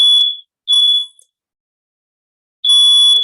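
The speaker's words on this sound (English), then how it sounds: "My fire alarm is going off." A fire alarm going off indoors sounds as three loud, shrill electronic bursts, with short silent gaps between them.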